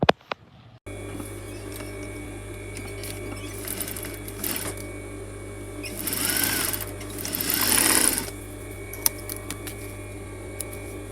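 A sewing machine stitches a coat collar piece in short, rapid runs of mechanical whirring, separated by pauses and quiet handling noises, with a longer, louder burst of stitching toward the end and no talking.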